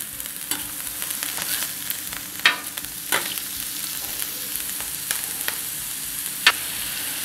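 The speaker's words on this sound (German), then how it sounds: "Nehmen wir jetzt erst ein bisschen anbraten." Low, steady sizzle of burger patties frying in oil, with a few sharp clicks and scrapes of a utensil on the pan.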